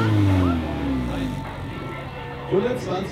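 A Nissan car's engine revs under throttle, a low droning tone rising and falling at close range while people talk over it.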